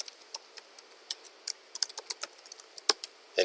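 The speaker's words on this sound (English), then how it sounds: "Type in your name," Keys tapped on a computer keyboard while a name is entered into an online registration form, a string of light, irregular clicks, close and quiet, with no voices.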